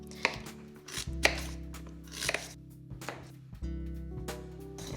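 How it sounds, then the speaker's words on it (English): A knife slices fennel thinly on a board, giving a series of sharp, close chopping knocks at an uneven pace, about six cuts with quiet gaps between them. "Try and cut it as thin as you can"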